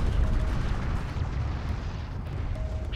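A strike craft explodes in the Deserts of Kharak video game: a loud, sustained, deep booming rumble that fills the whole moment without any break.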